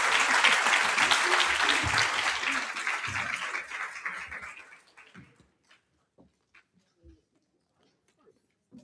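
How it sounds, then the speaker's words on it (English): Loud crowd applause with clapping and cheering for several seconds, then fading out into scattered claps and near silence. "Let's give them all a big round of applause."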